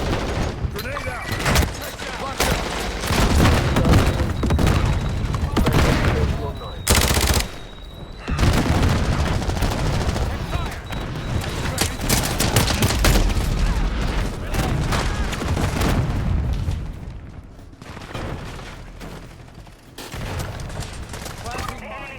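Grenade explosion and rapid gunfire in a Call of Duty MW4 hardpoint multiplayer match, dense overlapping bursts and booms at close range, loud and continuous, with announcer voice callouts mixed in.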